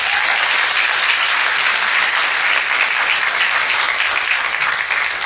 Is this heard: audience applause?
yes